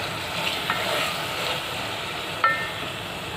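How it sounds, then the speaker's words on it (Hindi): A paste of ginger, garlic and chili is being fried with sliced tomatoes in a pan for Kokani-style cluster bean pulao. It gives a steady, moderate sizzle with a few brief clicks of stirring. "अदरक लहसुन मिर्ची का पेस्ट। इसको अच्छे से भून लेना है।"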